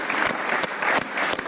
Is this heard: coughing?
no